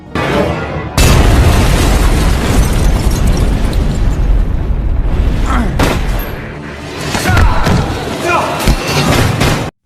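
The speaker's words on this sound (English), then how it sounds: "the car exploded and killed Detective Gibson in it" A car explodes in the action film I Am Wrath, with a sudden loud blast and a long roaring, crackling aftermath, later bursts and debris rumble under a dense mix.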